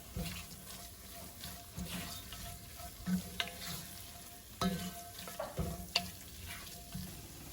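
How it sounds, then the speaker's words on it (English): Onions sautéing with mild curry paste in a pan for chicken curry, a low soft sizzle broken by intermittent scrapes and clinks of stirring, close and unaccompanied by speech. "saute that until you have a uniform onion mixture"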